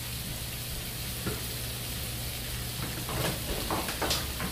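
Lean ground turkey cooks in a pan, a constant close sizzle with a few scraping stir strokes near the end, and no talking.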